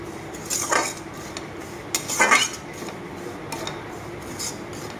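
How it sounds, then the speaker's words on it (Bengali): A spoon scrapes and rubs against a pan while frying semolina, in a few separate bursts, the strongest two close together, over a quiet background hiss. "সুজিটাকে আমি ভালোভাবে নাড়িয়ে চেড়ে ভেজে নিব।"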